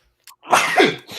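A person sneezes once, loud and close, with a short intake of breath just before the burst and a trailing exhale after it.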